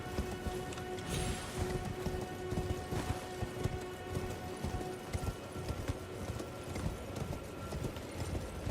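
Horse hooves clip-clopping at a steady gallop in the Elden Ring video game, a continuous rhythmic patter with faint rain-like hiss and game ambience, no talking over it.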